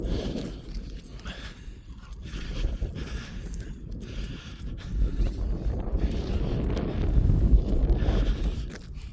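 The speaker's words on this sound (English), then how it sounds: "I think that wind's coming up from the south a bit." Gusty outdoor wind buffeting the microphone on a countryside walk with a French bulldog, a rough low rumble that rises and falls in waves and grows stronger toward the end.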